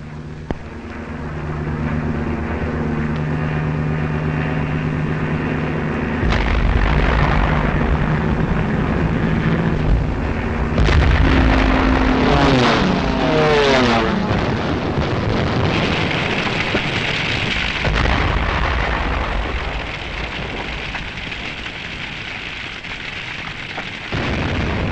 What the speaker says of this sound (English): This was Rotterdam, bombed after the Dutch forces had surrendered.